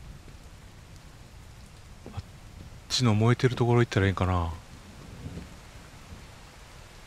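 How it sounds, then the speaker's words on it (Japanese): Heavy rain pours in the Shame Legacy video game as a steady broadband hiss that runs the whole time, while someone speaks briefly over it midway. "雨すごい降ってるよ。"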